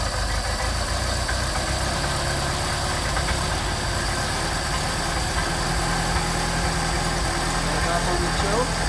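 A Mercedes 190SL engine with a Solex carburetor runs on choke while the car drives off. The steady mid-pitched engine drone holds at a fairly constant level throughout.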